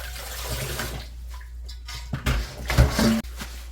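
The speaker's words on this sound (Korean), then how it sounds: "오이는 3번만 헹굴게요." Tap water running and splashing at a kitchen sink while cucumbers are rinsed, a steady close stream with louder bursts and clunks as the vegetables are handled.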